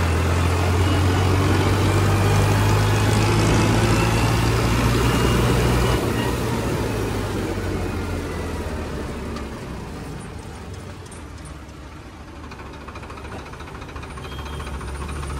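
A Farmtrack 60 tractor drives along a road in fourth gear, its diesel engine a loud, continuous low rumble that stays close throughout, with a slight shift in tone about midway and no voices.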